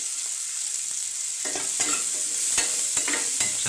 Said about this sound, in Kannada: ಇವನು ಚೆನ್ನಾಗಿ ಫ್ರೈ ಮಾಡ್ಕೋಬೇಕು.